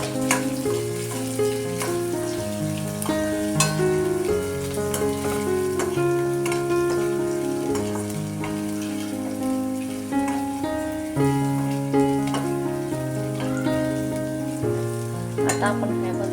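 Ginger-garlic paste and curry leaves sizzle in a hot frying pan, a continuous crackling fry with scattered sharp pops over steady tonal background sounds throughout.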